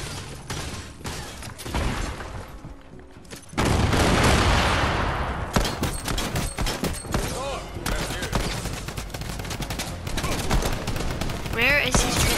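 A drum gun in Fortnite fires in rapid bursts, with dense loud gunfire from close up running through most of the stretch, mixed with other game sounds and a voice talking over it.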